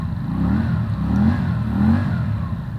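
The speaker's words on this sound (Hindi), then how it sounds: "roaring, this bike is just roaring" Keeway V302C V-twin motorcycle revving loudly and close, a deep, rumbling engine note swelling in two pulses over about three seconds with no talking.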